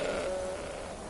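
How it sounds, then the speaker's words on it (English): A goat bleats in the video game Skyrim, one short, near call that trails off over about a second with no talk over it. "This goat's trying to outrun me."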